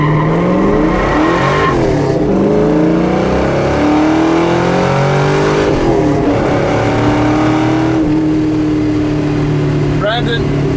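A 1969 Ford Mustang Mach 1 Fastback (Sport Roof) rumbles loudly on the move, its V8 note rising and falling through repeated revs and gear changes, close and dominant throughout.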